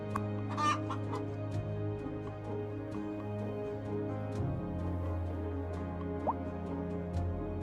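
Clucking chickens on a livestock farm in Cities: Skylines II, a few short clucks near the start over a steady low farm hum, with no talk.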